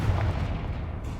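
A Confringo spell blast in a video game, a single booming burst at the start that quickly fades into a low rumbling tail.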